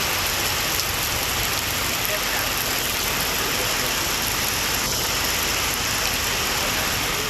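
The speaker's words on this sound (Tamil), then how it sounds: "இடி மின்னலுடன் கனமழை கொட்டி தீர்த்தது" Heavy rain in Tamil Nadu pours as a loud, unbroken broadband roar of dense downpour, close and constant throughout, with no distinct thunderclap standing out.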